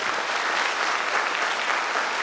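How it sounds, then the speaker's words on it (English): An audience at a school annual concert for the junior section gives a dense, continuous round of applause, loud and even from start to finish with no voices over it. "Can we please hear a very big round of applause"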